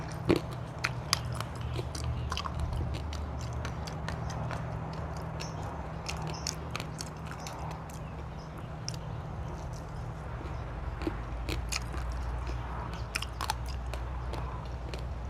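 Someone chews ripe noni fruit eaten with salt, close up, with soft, irregular wet bites and crunches repeating steadily over a low background hum, with no talking.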